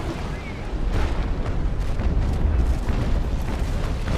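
Cannon fire from an enemy sailing ship strikes the port side during a naval battle in the Naval Action game, with a dense, rumbling barrage of heavy booms layered over constant sea and battle noise, loud and continuous.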